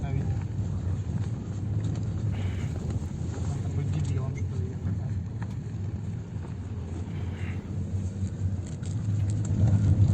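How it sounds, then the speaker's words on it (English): Cars evacuating from Mariupol toward Zaporizhzhia along a mined road give a steady low engine and tyre rumble with wind buffeting the microphone, a continuous near drone throughout. "So this is from cars evacuating from Mariupol."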